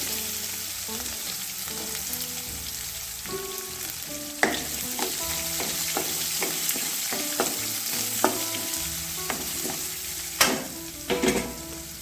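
Urad dal, chana dal and freshly chopped onion fry in hot oil, a steady close sizzle broken by irregular stirring clanks and scrapes of a spoon against the pan, with a few sharper knocks.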